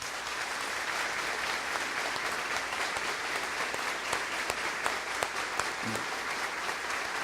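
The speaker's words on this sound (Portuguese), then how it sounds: "Vamos com todo respeito aplaudir esses irmãos." A church congregation applauds at a 21st anniversary service, a steady, even wash of many hands clapping that lasts throughout with no pause.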